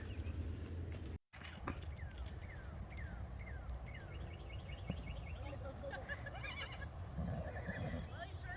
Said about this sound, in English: the horses are running around